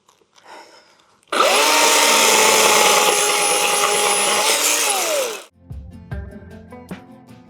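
A chainsaw cutting branches in a woodland garden snaps to full throttle and holds a loud, steady high-pitched whine for about four seconds, then cuts off, with faint clatter and rustling of brush before and after.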